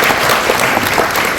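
A hall audience gives a short burst of dense, even applause, loud and continuous throughout.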